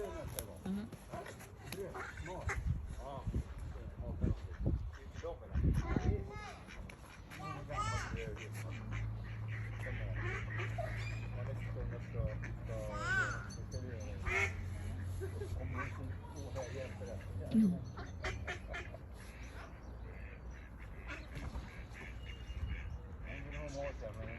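Ducks quack intermittently amid outdoor ambience, with a person talking over them much of the time.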